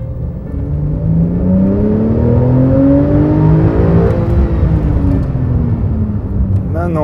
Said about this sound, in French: je vous propose d'écouter le flat 6 en version normale pour commencer